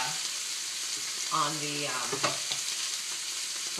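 A ribeye steak sizzles steadily in browning butter, a constant hiss of frying close by, with a brief ringing clink of a pan or utensil partway through.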